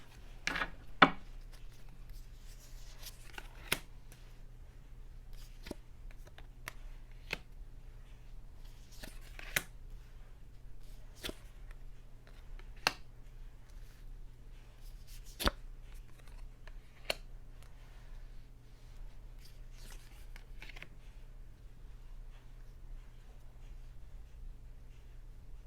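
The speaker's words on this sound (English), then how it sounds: "Let's cut the deck and get our cards out on the table." A tarot deck being cut and laid out during a Celtic cross card reading, with soft card rubs and a string of sharp, distinct snaps and taps spaced every second or two over a low, steady room hum.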